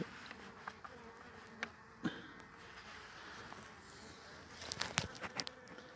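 Honey bees hum at a hive being fed syrup, a soft steady buzz broken by scattered clicks and handling knocks, with a cluster of sharper taps toward the end.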